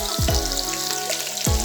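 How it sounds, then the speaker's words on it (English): Vegetables for an Italian ciambotta sizzle in a pan while a spoon stirs them, a short burst of crackling hiss with a few quick scraping strokes, close and fairly loud, no talking. "I will give it a stir and get my carrot in."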